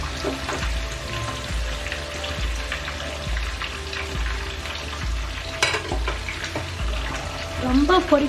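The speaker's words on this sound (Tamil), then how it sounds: "இப்போ மீனை பொரிச்சுக்கலாங்க" Jilebi fish sizzles and crackles steadily in hot sesame oil, with occasional louder spatters and pops, close up and with no talking.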